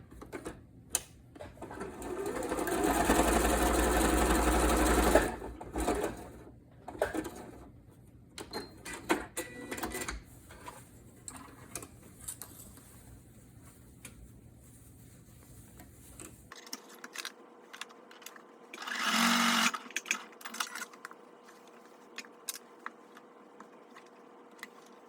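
Sewing machine stitching the fabric sides of a casserole carrier, with a few seconds of loud rapid whirring, then scattered soft clicks and handling noises, and a second short burst of stitching near the end.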